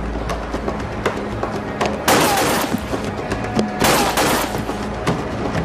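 Rapid bursts of automatic gunfire in a staged drama shootout, loud and close, with dense overlapping shots and sharp cracks that keep firing almost without pause.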